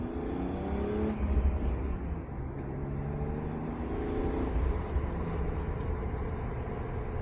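A BMW E36 fitted with a Remus exhaust revs up from idle twice, its engine note climbing and falling in steady, close, fairly loud bursts with no talking over it.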